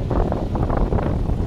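Gusty wind of about 25 to 40 mph buffets the microphone in rough, low rushing gusts, loud and close, with no voices.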